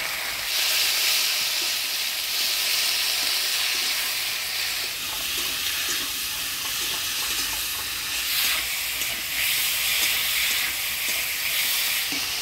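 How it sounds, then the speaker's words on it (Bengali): A ground paste of ginger, chilli and coriander with turmeric and salt sizzles in a pan for a Bengali fish curry, a loud steady hiss of frying with faint stirring scrapes underneath. "এবার দিয়ে দেবো বাটা মশলা, আদা লঙ্কা ধনিয়া বাটা।"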